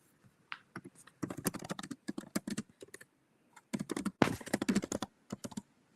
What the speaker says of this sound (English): Probably hear me typing